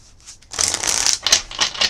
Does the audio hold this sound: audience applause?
no